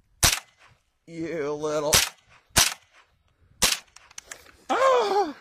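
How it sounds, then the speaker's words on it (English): A Smith & Wesson M&P15-22 rifle fires four sharp, spaced shots at a moving target, each a crisp crack close by, with a person talking between the shots. "Pick it up and then shoot it again. Moving target."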